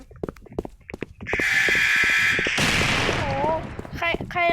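A bomb goes off in a Thai-commentated robot adventure video game, a sudden loud broadband burst that holds and rumbles for a few seconds, with game effects and chirpy tones following.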